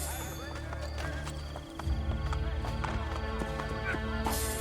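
Rhythmic hoofbeats of a galloping horse in Assassin's Creed Brotherhood over a busy game soundtrack, with a voice talking underneath throughout.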